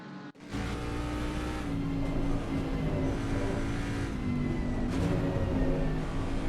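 Mustang race cars circling Suzuka in a sim racing game, a steady loud engine drone with shifting pitch as the drivers dab the brakes through a corner, continuous with no talk.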